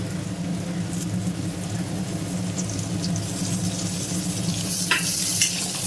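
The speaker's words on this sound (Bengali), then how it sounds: "আলু ভাজা হয়ে গেছে, এবার আমি দিয়ে দেবো পটলটা।" Potatoes and pointed gourd fry in a pan of hot oil, giving a steady, close sizzle that runs unbroken throughout, with a few soft stirring scrapes near the end.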